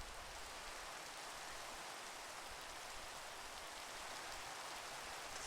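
Rain falls in the Minecraft video game, a steady, soft hiss of even pattering that holds unchanged for several seconds with no voices over it.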